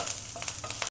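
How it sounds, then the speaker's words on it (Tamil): Red chilli and curry leaves sauté in hot oil in a pan while egg 65 is being made, giving a brief, steady sizzle with light crackles that cuts off abruptly. "ரெட் சில்லி, கருவேப்பிலை போட்டு லைட்டாக சாட்டேட் பண்ணிக்கோங்க"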